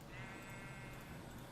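Sheep bleating in the Minecraft mod Better Than Wolves, a short, faint bleat heard briefly over a steady background hum.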